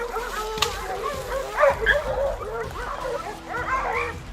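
Tracking dogs on a crocodile hunt bark and whimper close by, yips and whines coming in irregular bursts with a few louder peaks, over faint background noise.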